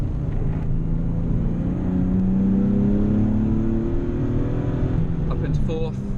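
Heard from inside the cabin, a Nissan 370Z engine hums and shudders on track as a steady loud low drone with rising tonal harmonics, then eases near the end, where brief higher chirps and clicks cut in.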